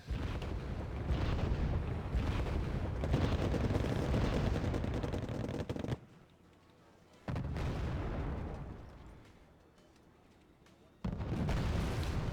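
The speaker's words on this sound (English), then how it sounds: "End up with some Centurions shooting at the infantry." Centurion tanks fire on infantry in the Wargame: Red Dragon battlefield, with loud booming blasts and rumbling gunfire cutting off abruptly into quiet gaps before the barrage resumes.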